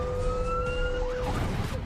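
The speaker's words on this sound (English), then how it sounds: "They have sort of like a siren." Siren sound effect in a reality TV show: a wailing electronic tone that holds steady and then sweeps up and down in quick swoops, loud and alone with no talk.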